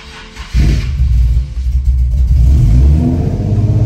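A Nissan Nismo engine fitted with new JUN 288 cams and Walbro 525 pump with ID1050X injectors cranks and fires for its first startup, catching abruptly into a loud, close idle with a rough, surging rumble and a brief rev, with no voices.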